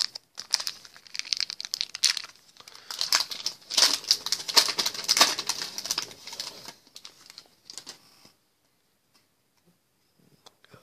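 A 2008 Upper Deck baseball card pack is torn open up close. Crinkly foil wrapper noises and tearing bursts come quickly for several seconds, then fall to near silence.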